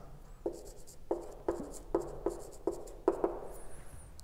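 Pen strokes on paper sound as a series of distinct short taps and scratches, about eight in a few seconds, close and fairly quiet with no voices.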